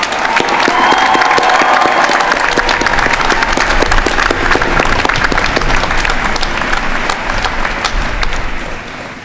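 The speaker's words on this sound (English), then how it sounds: "Students, please join me in a round of applause for the faculty and staff who guided and supported your learning" Sustained, loud applause from a large graduation crowd for faculty and staff, dense rapid clapping filling the whole stretch and tapering slightly at the end.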